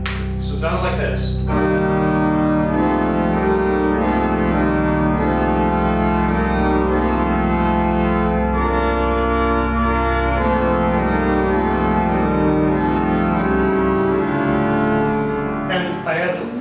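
Organ plays a reharmonized arrangement of the hymn Holy God, We Praise Thy Name, sustained full chords with steady harmonic movement and a rhythmic fanfare-like opening, loud and continuous, no voice.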